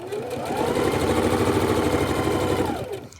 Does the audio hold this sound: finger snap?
no